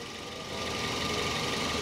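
A Toyota Vios Type G second-generation facelift sedan idles steadily, its engine giving a smooth, even hum with a slight rise in level partway through, heard alone without talk.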